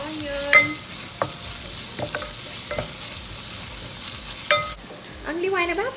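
Onions fry in a pan with a soft, constant sizzle as a utensil stirs them, scraping and clinking against the pan in a few scattered strokes, close by and without talk.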